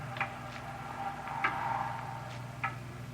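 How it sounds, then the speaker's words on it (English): A clock ticks steadily at close range, each tick crisp and evenly spaced, over a low constant hum. "It's a loud clock, ain't it?"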